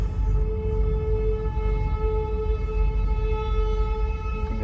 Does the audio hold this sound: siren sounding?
yes